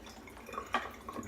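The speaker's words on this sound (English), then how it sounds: "I'm going to add just a touch of water to my lather here" A small splash of water drips into creamy shaving lather, a brief, faint trickle and drip close by in a quiet setting.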